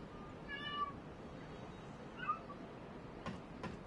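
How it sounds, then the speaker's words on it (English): A domestic cat meows twice in a quiet indoor room, a faint drawn-out call followed moments later by a shorter one, with light soft knocks near the end. "One of the cats is meowing."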